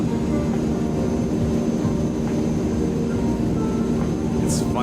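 Simulated aircraft engine at full throttle in Microsoft Flight Simulator 2020, a steady, loud, unbroken drone that holds level throughout, with no speech over it.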